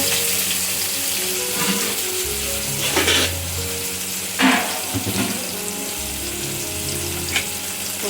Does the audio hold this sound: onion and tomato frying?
yes